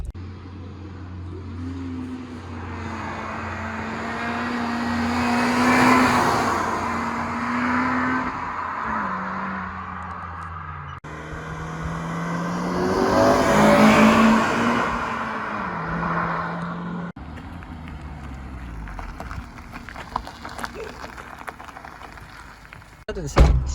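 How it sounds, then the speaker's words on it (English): A Honda Civic FN2 Type R with an aftermarket exhaust roars past twice, rising and falling as it approaches and recedes, with a deep, rumbling exhaust note and a few crackles near the end. "We're gonna do a little flyby for you guys"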